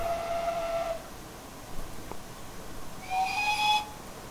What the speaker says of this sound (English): Got our secondary whistle.